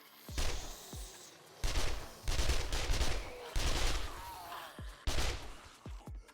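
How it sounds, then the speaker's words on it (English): SMG fire in the survival game 7 Days To Die, several rapid bursts of gunshots separated by short pauses, loud and close, with thuds in between. "My SMG's performing well."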